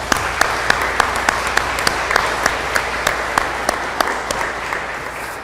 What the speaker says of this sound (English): I want to give a gratitude and a round of applause to them for the work that they do every day